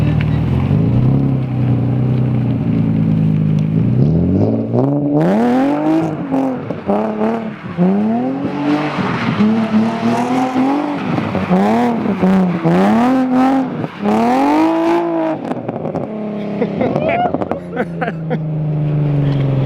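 A car doing donuts at a meet-up of local car enthusiasts, its engine revving hard in repeated rising and falling sweeps, loud and close, with tire noise blended into the continuous roar.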